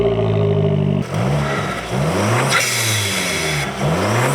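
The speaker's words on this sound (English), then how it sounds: "this is actually straight piped from the factory, so there's no resonator, no muffler." A 2015 Fiat 500 Abarth with a big turbo and factory straight-piped exhaust, no muffler or resonator, revs loudly and up close in repeated rising pulls, each climb snarling upward before dropping back.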